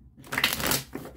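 A deck of tarot and oracle cards is shuffled once, a short riffling burst of papery flicks and slaps up close, heard alone.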